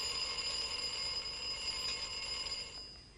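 An alarm clock rings with a steady, shrill electronic tone, continuous and fairly faint, over a low background hiss for a few seconds.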